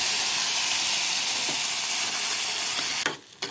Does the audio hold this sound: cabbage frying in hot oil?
yes